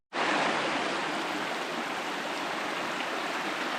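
Water streaming down a rocky hiking path on Mallorca's GR221 trail, a steady, close, broadband rush that starts abruptly and then runs evenly without pause.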